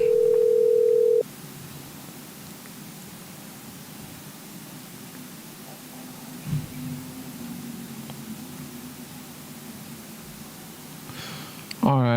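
A steady telephone tone of an unanswered call sounds for about a second, then gives way to a long stretch of faint line hiss and low background noise with only small, scattered sounds.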